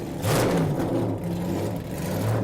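An AC Cobra Dragonsnake race car engine rumbles loudly and steadily nearby at Goodwood Revival, its pitch rising and falling slightly as it revs, with a deep, throaty tone throughout.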